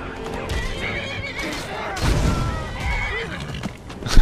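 A horse whinnies in Skyrim amid game sound effects and hoof clatter, with a louder crash or thud partway through and a sharp hit at the end, while a player talks over it.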